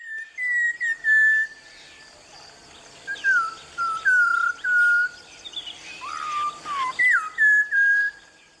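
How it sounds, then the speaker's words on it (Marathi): A forest bird in the evergreen Western Ghats near the Tilari river sings clear, loud, human-like whistled phrases in repeated bursts with short pauses, each sliding and wavering, over a faint insect hum. "त्याची शीळ अगदी माणसानं शीळ वाजवल्यासारखी सुद्धा असते."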